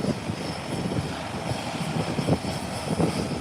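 A Beechcraft 1900 twin-turboprop aircraft rolling on the runway toward the threshold, its steady propeller and engine drone moderately distant and continuous, with slight swells in loudness.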